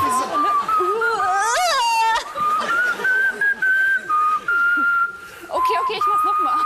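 A person whistles the melody of a pop song, slow with bends and sustained notes, the melody wavering and breaking off briefly before resuming, fairly close and clear.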